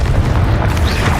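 Confringo explosive spell from the video game Hogwarts Legacy, a short, loud, rumbling boom with a deep low-end blast that stays heavy throughout the brief moment.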